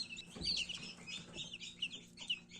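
Brahma and Faverolles chicks, freshly hatched, sit in a box and peep in a steady run of high, overlapping chirps, close and fairly soft, with no voices.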